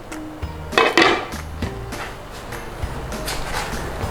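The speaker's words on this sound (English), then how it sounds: "all we need to do, guys, is put the lid on" The lid of a Crockpot slow cooker filled with chicken stew is set down with a few close ceramic and metal clatters, two sharp knocks near the start, then quieter bumps as it settles.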